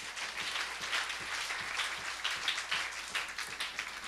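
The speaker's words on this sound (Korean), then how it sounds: "박수로 하나님께 영광 드리겠습니다" Church congregation applauding during a Friday night prayer service, a soft, distant wash of many hands clapping with faint rhythmic accents, no talk over it.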